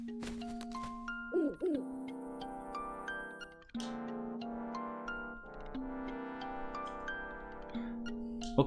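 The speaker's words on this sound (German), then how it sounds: "Ich sage nur, uhu." Owl hooting in the Zelda Link's Awakening video game, a sequence of clear synthesized tonal notes in steady stepping phrases, heard alone without talk.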